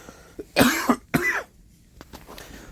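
Two close, harsh coughs come in quick succession, followed by a faint breath and quieter throat sounds.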